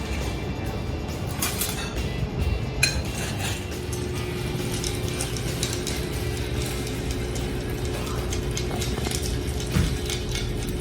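A cocktail stirred over ice, then strained: steady clinking and rattling of ice against glass and metal, continuous and close, with no talk.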